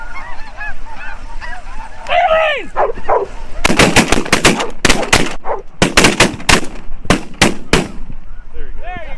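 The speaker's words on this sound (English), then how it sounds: "There you go, nice shooting." Shotguns firing at snow geese during a spring hunt: a volley of about a dozen loud, sharp blasts in quick succession, with geese honking before and after the shots.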